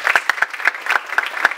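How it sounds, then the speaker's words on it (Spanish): Applause welcoming the rector at an institute event launching new courses and workshops: loud, distinct claps from a smallish group, irregular and close, with no talk during it. "a quien pido recibir con un fuerte aplauso"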